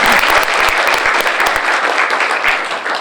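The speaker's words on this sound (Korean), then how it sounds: "이제 뭐 박수 한번 쳐드리시죠." An audience at a talk concert breaks into brisk, dense applause, sustained and fairly loud for the full few seconds with no talking over it.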